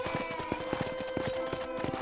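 Horse hooves clip-clopping at a ranch corral in Red Dead Redemption, an even, moderately close walking rhythm of hoof strikes over low background music.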